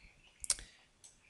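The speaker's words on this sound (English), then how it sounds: "we're going to click, we're going to type in" A few computer keyboard keys clicked and typed in a quiet room during software scripting work, a sharp cluster of close taps followed by one softer tap about half a second later.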